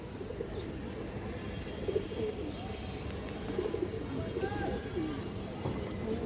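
Pigeons, including a hen, give low soft cooing calls that are close and partly masked by someone talking over a steady background hum.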